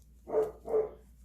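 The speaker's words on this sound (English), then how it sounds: "Sorry if you hear my dog in the background." A dog barks twice in the background, two short mid-pitched woofs about a third of a second apart, fairly faint and distant in an otherwise quiet room.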